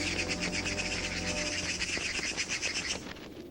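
Birds chirp steadily in a busy, continuous chorus of high tweets in a Madeline cartoon, fairly close, with no voices.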